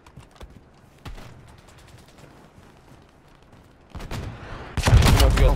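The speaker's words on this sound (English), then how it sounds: "I hear gunfire. I just don't see him." Gunfire in a multiplayer shooter game: a few sparse distant shots crack over the first seconds, then a louder burst of close, rapid fire breaks out at the end.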